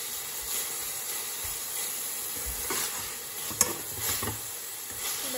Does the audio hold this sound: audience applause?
no